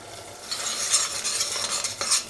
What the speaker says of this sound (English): Let this simmer, it becomes a lovely color with all the spices and the turmeric.